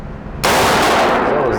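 A single loud, close AR-15 rifle shot from a Palmetto State Armory build kit fires abruptly after a short quiet lead-in, its blast and muzzle roar sustaining at full level through the rest of the moment.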